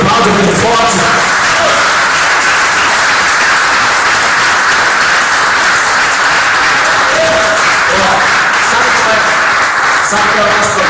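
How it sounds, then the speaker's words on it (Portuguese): Church congregation at a celebration service applauding loudly, a dense, sustained wall of clapping filling the whole stretch, with a voice briefly audible over it near the start and end. "Se você quiser aplaudir, aplaude bem forte."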